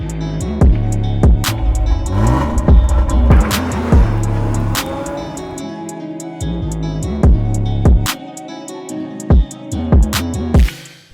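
A 1990s BMW E36 320i with a six-cylinder engine revs hard and repeatedly, rising and falling through loud, close throttle blips with sharp bursts between pulls.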